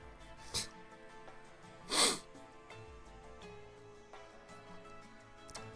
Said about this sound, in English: Nah, time to sneeze.